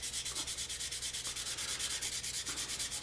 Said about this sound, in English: This is 400 grit, and smooth it out a little bit more, and in order to blend the contours even better.